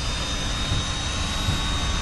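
A jet airliner engine in a flight simulator game roars at takeoff power on the runway, a loud, steady, broadband rushing drone with no break.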